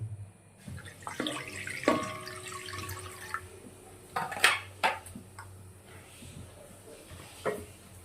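Water poured into a metal cooking pot in a home kitchen while making green chilli sauce, giving a short splashing run with clinks of pot and utensils, close and moderately loud, without speech.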